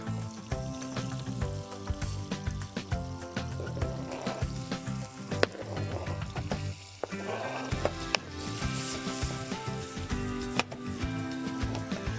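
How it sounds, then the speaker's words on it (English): Steady sizzling and crackling of food frying in olive oil and butter in a hot pot, continuous and fairly loud, with occasional clinks of a utensil stirring. "Sizzling."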